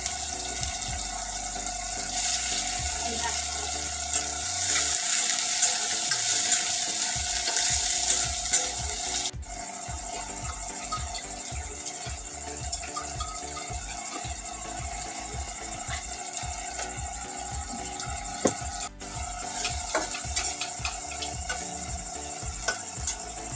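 Onions frying in a pan for an egg curry, a steady sizzle with a constant hiss and stirring scrapes, fairly close and uninterrupted by talk.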